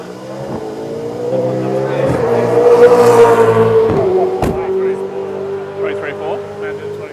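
A race car engine drones and revs out on a track during a five-lap run, a loud sustained tone that swells and sags with gear changes, with people talking over it.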